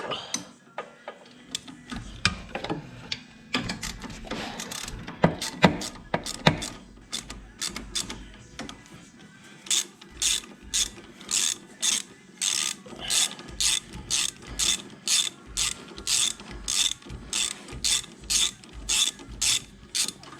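A socket ratchet loosens bolts on a John Deere 1025R tractor. Scattered metallic handling clatter comes first, then a long run of close, rapid ratchet clicking in regular bursts.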